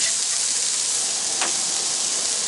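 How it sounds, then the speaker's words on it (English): Jalapeno onion smash burger patties sizzle on a Blackstone griddle, a loud, even, close frying hiss that holds steady throughout with one brief faint clink partway. "Let them sizzle there for a minute."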